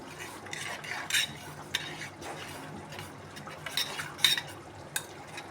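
A spoon stirs gravy with ghee in a pan, making close scraping and clinking strokes at an irregular pace over a faint low sizzle.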